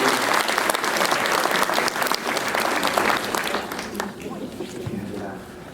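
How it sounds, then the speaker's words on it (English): Conference audience applauding a canine assistance dog demonstration, dense clapping filling the room for several seconds before tapering off. "So if we can give Chico a little clap."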